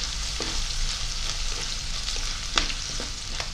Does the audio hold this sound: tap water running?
no